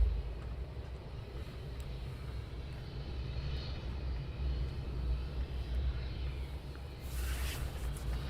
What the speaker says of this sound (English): Yep, and I can see the Gulfstream now on approach.